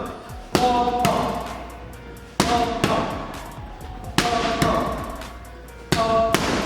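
Four heavy boxing punches thud into a sandbag, spaced about 1.5 seconds apart, each a sharp close impact with a short ringing decay, with no talking between them.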